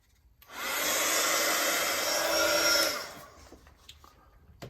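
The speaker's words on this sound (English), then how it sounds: "we get the heat gun on it, it starts to bubble" A heat gun blows hot air over wet mixed-media paint, a loud, steady whooshing roar that switches on abruptly, holds for a couple of seconds, then cuts out, leaving faint room sounds behind.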